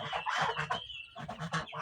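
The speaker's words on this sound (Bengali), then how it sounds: "300 মুরগির বাচ্চা আছে" Native Sonali chicks in a poultry house holding about 300 birds, clucking and peeping in a busy overlapping chorus close by, with a brief lull midway before the calls resume.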